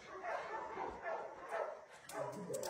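A small mother dog and her puppies whimper and yip softly in brief, high, faint cries close by.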